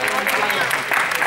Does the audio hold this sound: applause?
yes